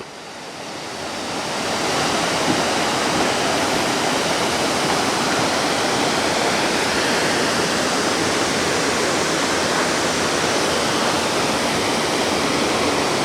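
Water rushes loudly and steadily in the stream flowing through the Sylvania Wilderness, a full, continuous roar heard close up with no voices over it.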